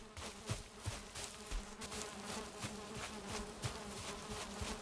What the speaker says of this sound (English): I think we're going to find bees here. I think that's a buzzing sound we're hearing.